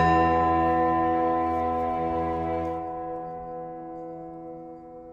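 Lielauce church bell ringing out in a single sustained strike, its rich layered tone decaying slowly and fading over several seconds, heard alone without talk.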